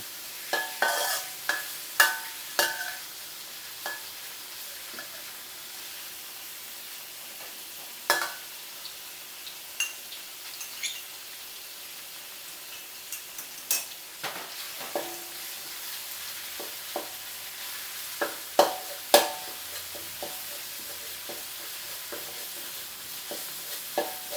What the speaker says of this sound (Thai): ใส่เนื้อกุ้งลงไปแล้วตามด้วยพริกแกงเลยครับ